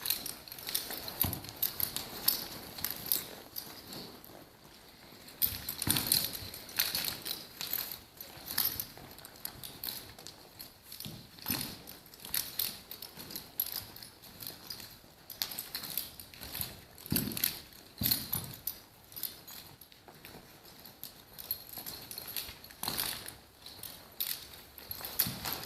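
Horses shift and step around during ground training to stop kicking: irregular hoof clops and faint rattling of gear, moderately close, with no talk.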